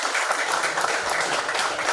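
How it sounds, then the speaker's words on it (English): At a tourism show, an audience applauds a professor with a brief burst of dense, close clapping that stays loud and steady for the whole moment. "Let us give Professor another round of applause."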